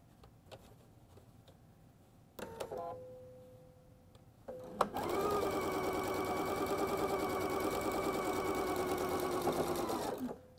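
A sewing machine stitches a flying geese quilt block, a few brief starts followed by a steady, continuous whirring run of about six seconds, close and clear.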